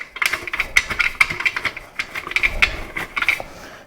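A screwdriver tightening screws on a ceiling fan during installation, giving a close, fast series of small metallic clicks and ratcheting ticks in uneven rhythm, with no talking.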